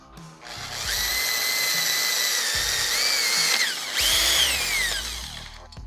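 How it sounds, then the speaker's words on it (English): A power drill with a 1/4-inch bit bores center holes for track bolts in a Mirage kayak rod holder mount. It whines loudly and steadily with a brief dip partway through, then spins down at the end. "Drill out these 1/4-inch center holes here to accommodate the track bolts."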